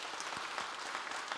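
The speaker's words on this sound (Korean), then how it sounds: "뜨거운 박수로 격려하겠습니다." An audience claps warmly in a church during a New Year prayer meeting, giving steady, dense applause that fills the room throughout with no voices over it.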